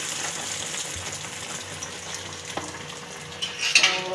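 Breadcrumb-coated bread pakoras frying in oil with a steady sizzle, a spoon clinking and ladling hot oil over them, and the bubbling swelling louder near the end.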